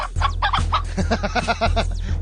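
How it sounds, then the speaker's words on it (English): Chicken sound effect from the You Don't Know Jack quiz game: a rapid run of loud, close clucks over a steady electronic hum. "You heard the chicken."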